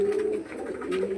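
A black heavy-booted lakka pigeon with five-inch foot feathers coos close by, a short low throaty warble that rises and falls, with no talking.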